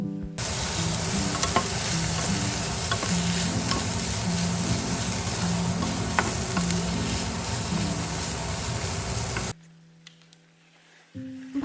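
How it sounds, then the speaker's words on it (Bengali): Chicken frying in a pan with Brussels sprouts, beans and carrots gives a loud, steady sizzle with stirring scrapes for about nine seconds, then drops to a quieter hiss. "এরপর এটার সাথে চিকেনটা দিয়ে ভালো করে ভেজে নেব"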